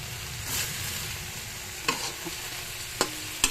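Sardines sizzle gently in a pan as they are stirred and sautéed for a bitter melon dish, a soft frying hiss broken by a few sharp utensil scrapes and clicks against the pan.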